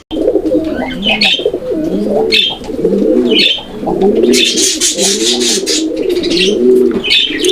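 Pigeons of the native Golla breed coo loudly and close, in repeated rolling phrases that overlap with faint chirps in the background, with no voices.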